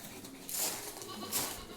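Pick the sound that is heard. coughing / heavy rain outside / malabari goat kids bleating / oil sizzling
malabari goat kids bleating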